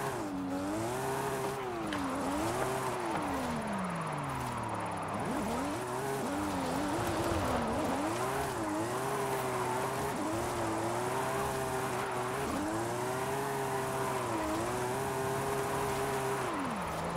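A car in the racing game Forza Horizon 5, driven on a Logitech G29 wheel rig, whines with a steady engine tone that rises and falls repeatedly as the revs change, loud and continuous with no talk.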